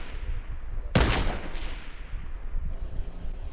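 A single loud gunshot cracks from a sniper rifle in a multiplayer video game match after dark, followed by a decaying echo and low game ambience.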